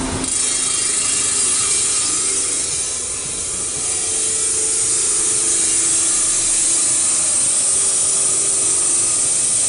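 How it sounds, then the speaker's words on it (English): A wet diamond saw grinds steadily through a piece of glass, a continuous abrasive hiss with water spray that stays loud and even throughout, with no voices. "we actually take it to a diamond saw with water"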